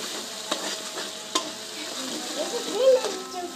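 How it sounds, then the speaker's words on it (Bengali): A spatula stirs mashed green pea kachori filling, seasoned with salt and sugar, in a pan that is cooking it dry. Soft sizzling runs under a few distinct scraping strokes and a brief squeak, close and fairly quiet. "ভালো করে নেড়ে নেব।"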